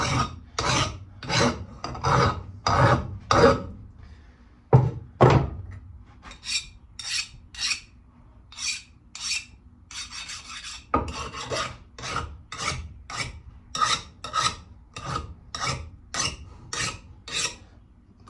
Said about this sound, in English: I scraped off the decarb with this rough cut file